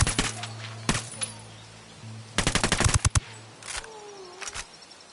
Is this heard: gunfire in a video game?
yes